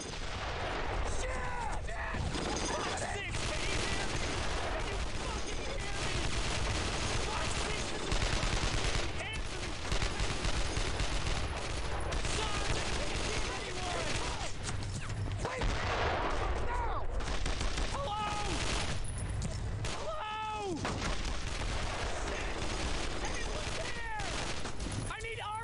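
Machine gun fire in Brothers in Arms: Road to Hill 30 rattles in sustained bursts amid a thick wartime din of rifle shots, shouting soldiers and battlefield clamor that never lets up.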